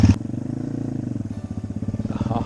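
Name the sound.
motorcycle being ridden in low gear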